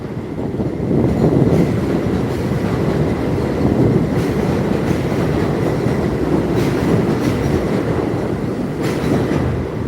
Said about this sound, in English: Hold on, another train.